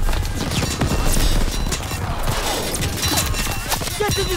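Call of Duty: WWII beach landing combat: dense, chaotic bursts of rifle and machine-gun fire crackle continuously at mixed distances, loud and overlapping, with battlefield clutter throughout.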